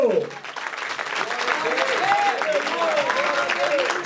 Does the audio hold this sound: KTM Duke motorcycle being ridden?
no